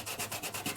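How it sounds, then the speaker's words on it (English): A fingertip rubs glitter into sticky adhesive foil paper, making a close, soft, rhythmic scratchy rasp repeated several times in quick strokes. "Take my finger and just kind of rub it in."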